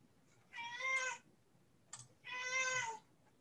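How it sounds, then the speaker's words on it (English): A cat meows twice indoors, two clear, drawn-out calls about a second apart, close to the microphone against a quiet background. "That's my cat."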